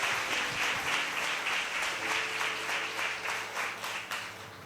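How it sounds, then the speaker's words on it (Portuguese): A church congregation applauding during a Brazilian evangelical healing service, a steady wash of many hands clapping with a rhythmic pulse, moderately loud and sustained, with faint music or voice underneath. "Pode aplaudir para valer, que é o poder da palavra que cura!"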